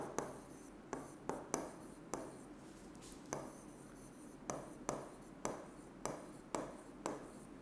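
Pen or marker writing numerals by hand, likely on a board during a class 6 maths lesson on large numbers, with repeated short scratchy strokes in bursts separated by brief pauses, close and fairly quiet, no voices.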